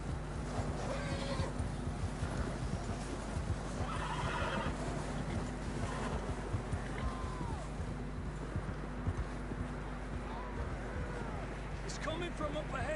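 Horses in Red Dead Redemption 2 whinnying and neighing repeatedly over clip-clopping hooves, with voices talking over the game sounds throughout.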